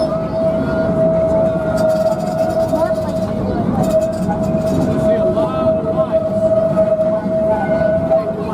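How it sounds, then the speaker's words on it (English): A Christmas ride train at a family farm rolls along with a steady rumble and a sustained whistle-like tone, while voices murmur faintly underneath. "the train is now rolling"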